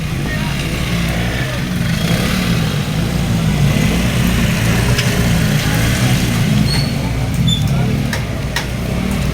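A motorcycle engine idles nearby in a flood-damaged area, giving a steady, loud low rumble with no change in pace from start to finish.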